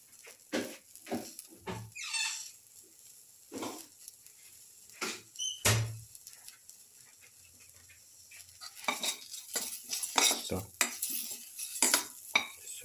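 Turmeric and salt being stirred into a fish brindleberry stew: scattered scrapes and clinks of a spoon against the pot, close and irregular, with quiet gaps between strokes.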